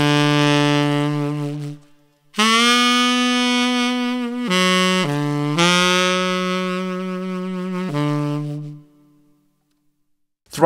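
Saxophone solo phrase played with a fluffy tone, several long sustained notes with bends and scoops separated by short gaps, loud and alone over roughly ten seconds.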